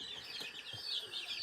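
Young chicks raised for care, about half the size of a regular chicken, chirping and clucking softly in a quick, busy overlapping chatter, faint and close, with no talk.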